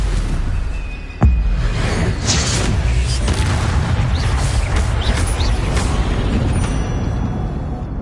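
Stupefy spell cast in the Hogwarts Legacy video game, a sudden loud magical boom with a whooshing burst, followed by rumbling, crackling combat effects that keep going.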